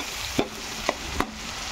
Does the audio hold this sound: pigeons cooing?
no